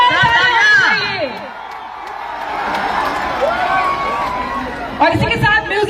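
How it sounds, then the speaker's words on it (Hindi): A large crowd at an outdoor stage show in Muzaffarpur cheers and whoops with applause mixed in, loud and sustained, with shouting voices throughout. "क्या बात है, इसी के साथ जोरदार तालियां"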